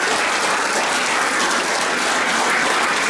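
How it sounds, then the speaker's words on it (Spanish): Loud, dense clapping from a crowd at a 50th anniversary celebration of a 1974 championship, continuous and even throughout. "También un fuerte aplauso para él."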